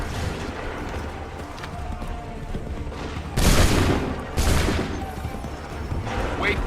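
Massed musket volleys in Assassin's Creed 3, with a steady battle din underneath and two loud ragged bursts of gunfire, each a crackling blast of many shots that fades over about a second.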